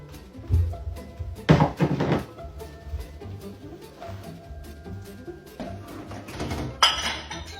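A ceramic bowl and dishes clink and clatter as they are loaded into a dishwasher, in a few close, uneven knocks and chinks against a quiet room.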